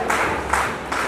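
Audience applause welcoming Professor Mahendra Singh at a school annual day function, a steady wash of many hands clapping at moderate distance, filling the brief moment.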